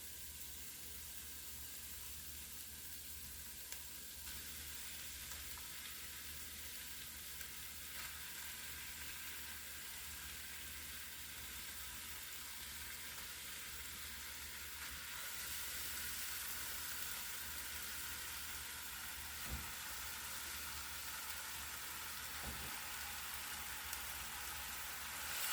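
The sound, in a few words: cooked black beans added to pot, sizzling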